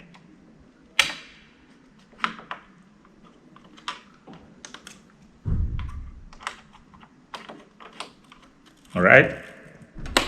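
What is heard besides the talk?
Samsung 16GB RAM module clipping into slot of Dell Precision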